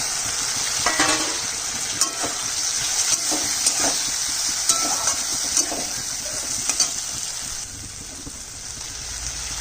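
A loud, steady sizzle of frying fills the clip as fried potatoes go into a pan of fried spices, with scattered scrapes and stirring knocks in the pan.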